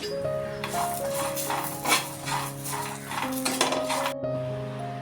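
Ginger and garlic sauté in a pan with a steady sizzle and metal clinks from a spoon, plus a brief tonal ringing over the sizzle.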